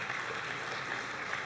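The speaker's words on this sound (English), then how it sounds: "Another round of applause." Applause for cosplay contestants at a convention contest, a faint, distant patter of clapping from a crowd that holds steady for the whole brief stretch.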